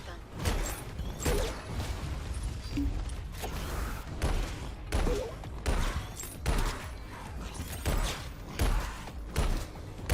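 Plasma shotgun from the video game Alienation firing again and again in heavy, booming bursts roughly every second, loud and close over continuous battle noise and game sound effects.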